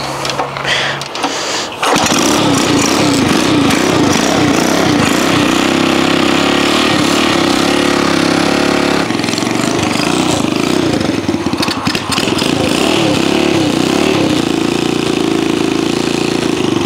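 A modified 200cc Kikker 5150 bobber motorcycle engine cranks and fires after a quiet moment, then settles into a loud, close, steady single-cylinder idle with a slight rise midway; no talking.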